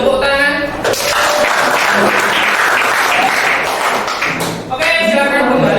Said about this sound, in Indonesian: Silakan beri tepuk tangan.